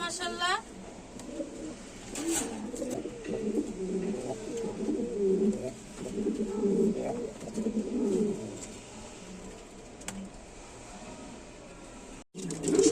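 King pigeons kept as breeding pairs cooing nearby in repeated soft throaty rolls, with someone talking over them.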